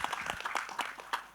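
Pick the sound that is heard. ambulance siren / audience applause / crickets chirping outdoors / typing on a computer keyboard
audience applause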